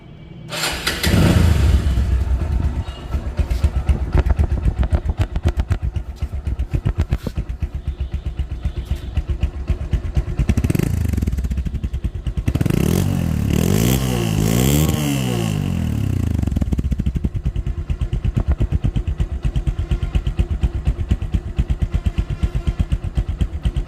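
A Bajaj Discover 135 motorcycle engine idles close by with a steady, rapid putter, and the throttle is blipped a few times midway so the revs rise and fall before settling back to idle.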